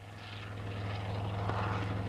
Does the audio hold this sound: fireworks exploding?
no